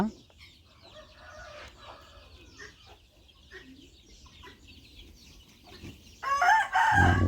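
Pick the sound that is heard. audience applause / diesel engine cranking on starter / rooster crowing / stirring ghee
rooster crowing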